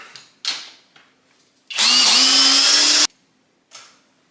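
Compact power drill driving a 1/4 inch lag bolt, a loud whining burst of just over a second at rising pitch that cuts off sharply, framed by brief clicks and handling knocks.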